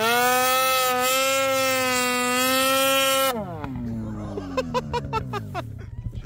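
A snowmobile engine revs loud and close on a big mountain, holding a steady high whine before dropping in pitch and sputtering through several sharp throttle blips.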